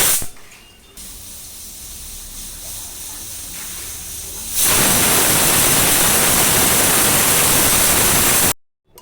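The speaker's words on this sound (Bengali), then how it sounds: "এখন প্রেসার কুকারে বয়েল করে নেব।" A pressure cooker boiling lentils hisses. At first there is a quieter, steady hiss. Midway it jumps to a loud, harsh, sustained jet of steam, then cuts off abruptly near the end.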